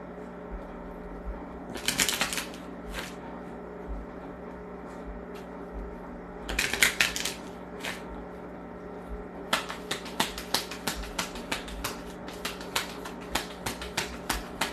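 Tarot oracle cards are shuffled and drawn in a quiet room, heard as short crisp riffling flurries around two and seven seconds, then a longer run of light tapping and snapping card sounds.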